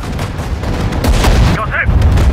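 A loud, steady clatter of rifle and machine-gun fire fills a Sudden Strike 4 battle at the 1943 Mareth Line, with thudding impacts layered in. A short voice line cuts in near the end.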